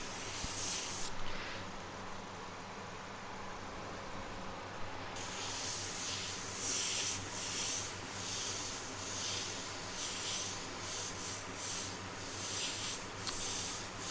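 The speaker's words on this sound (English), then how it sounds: "I want to spray a lot of paint really quickly." An airbrush sprays paint onto a T-shirt for a big, messy graffiti-style design, giving a steady, close hiss that runs almost without a break and surges slightly in soft pulses.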